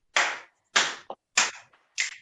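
Hands clap four times in an exercise routine, each a sharp, close, loud smack about every 0.6 seconds. A few softer taps fall between the claps, with no talking.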